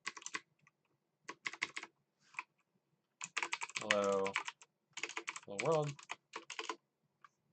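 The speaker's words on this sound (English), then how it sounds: "typing, okay." Bursts of rapid clicking on a computer keyboard while writing Go code, with pauses between runs of keystrokes and a voice speaking briefly in the middle.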